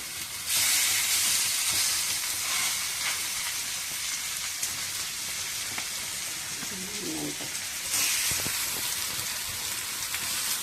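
Fish frying in hot oil, a dense continuous sizzle and crackle that swells at the start and again near the eight-second mark, with faint clinks underneath.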